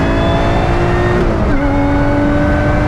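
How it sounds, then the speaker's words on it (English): Lotus Exige S on track at the Nürburgring, a steady, loud supercharger whine riding over a droning exhaust note, with the pitch dipping briefly as it shifts before holding high again. "the whine of supercharger, the exhaust note."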